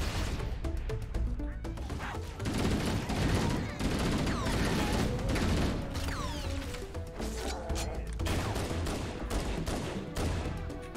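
Pistol gunfire in the first-person shooter Halo: Combat Evolved, sharp shots popping in quick irregular bursts amid other weapon fire, chattering alien voices and game effects, loud and busy throughout.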